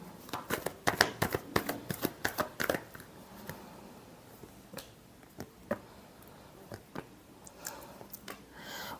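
Tarot cards are shuffled by hand, with a quick burst of crisp, close riffling flicks followed by sparser, softer card taps.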